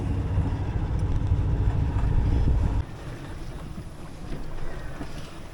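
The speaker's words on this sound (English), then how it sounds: "we're back to sailing, the wind's picked up" Wind and water noise aboard a sailboat as the wind picks up, a steady rushing roar with low buffeting that drops noticeably in level partway through and continues softer.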